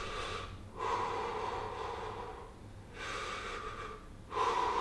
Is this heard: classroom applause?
no